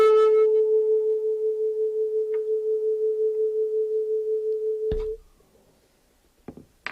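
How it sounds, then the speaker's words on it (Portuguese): A steady sustained tone wavers in loudness with a regular pulsing rhythm, the acoustic beating of two slightly mismatched tones, heard alone for about five seconds before cutting off, followed by a few faint clicks. "Esse é o fenômeno de batimento."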